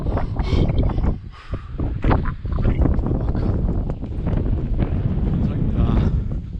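Wind blows across an open mountain ridge trail on Apache Peak, buffeting the microphone in loud, rough gusts, while a person talks over it throughout.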